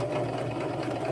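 A sewing machine runs steadily as two halves of a cut quilt block in different fabrics are stitched back together, a continuous close motor hum with a fine rapid needle rhythm and no voices.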